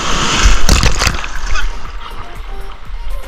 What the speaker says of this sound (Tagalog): Kasi mataas talaga yung alon.